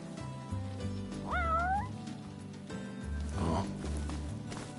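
In a PS4 video game, a cat lets out two rising meows near the middle, over a looping game soundtrack with steady low tones and faint footstep-like noises.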